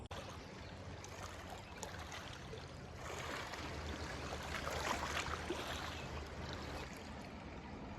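Yellowstone River flowing in Montana, a quiet continuous rush of water that swells slightly in the second half, with no voices.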